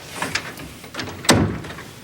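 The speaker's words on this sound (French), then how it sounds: "Ferme la porte." An interior door swings shut with a single thud and broadband knock in a quiet room, preceded by faint shuffling and small knocks, with no talk.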